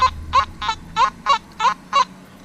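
A Nokta/Makro metal detector emits a series of seven short, squeaky high-pitched beeps on an iron target in fairly even rhythm, close and clear against a faint background hum.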